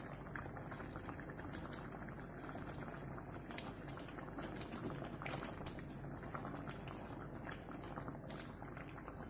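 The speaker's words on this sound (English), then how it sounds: "Now that it has come to a boil, just stir it from time to time and let it simmer for a few minutes till the dal thickens up slightly." A pot of moong dal with ripe mango simmers steadily, giving a dense, continuous bubbling and popping close by, with no voices.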